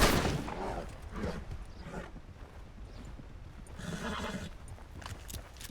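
A horse in the Red Dead video game whinnies and snorts over a steady clatter of hooves, with a busy game soundscape underneath.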